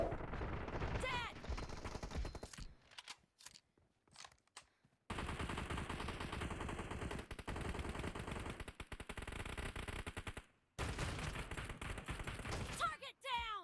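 Rapid, punchy shotgun blasts ring out in a team deathmatch video game, loud bursts of gunfire in dense clusters broken by short gaps, with game voice callouts mixed in.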